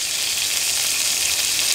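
Chicken sizzles steadily in a pan on a camp stove, a close, constant bright frying hiss with no voices.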